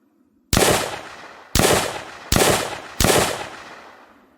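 Four loud, sharp gunshots from a weapon in an Unreal Engine Nazi Zombies video game, each ending in a decaying echo tail and spaced roughly a second apart, with no talk over them.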